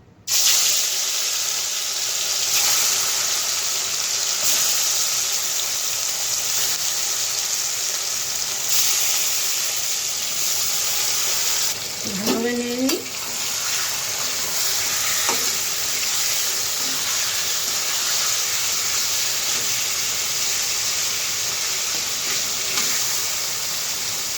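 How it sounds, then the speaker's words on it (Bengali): Fish sliding into hot mustard oil in a wok, giving a steady, close, bright sizzle through the whole stretch, with a few brief clinks and scrapes partway through. "তেল গরম হয়ে গেছে তো মাছগুলো ছেড়ে নিই"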